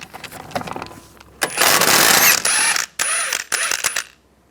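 A ratchet with a 17mm hex socket loosening a bolt on a 2012-2019 BMW 328i xDrive suspension, with rapid close clicking bursts that stop and restart several times, loud and free of talk.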